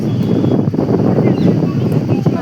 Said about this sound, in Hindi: बहुत अच्छी हवा चल रही है यहाँ पे